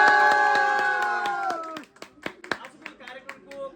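Audience in Dang applauds guests at a film publicity event, scattered claps growing denser after a long announcing voice with musical tone fades, close and moderately loud.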